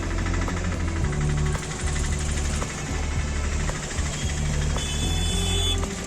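Motorbike engines idle and rumble at Kumbh Mela in Prayagraj, a steady low, throbbing drone with mechanical knocking. The sound stays continuous and close throughout, with brief clicks and a thin high whine on top and no talk.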